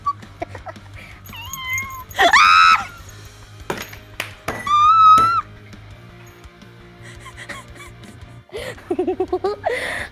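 A person mimics a cat, letting out several loud, close meows and a drawn-out yowl between quieter pauses, ending in rapid choppy vocal bursts.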